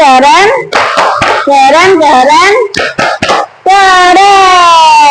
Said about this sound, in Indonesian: yuk kita kasih tepuk apresiasi ya, itu tepuk keren, tepuk keren.